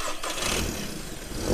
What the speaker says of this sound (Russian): Автомобиль заводится и едет, сейчас сделаем небольшой драйв-тест.